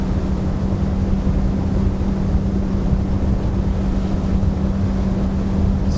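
Bluewater 25T motorboat running at 6,000 RPM near 47 mph, its outboard engines holding a steady, loud drone with wind and water rush, continuous and close throughout.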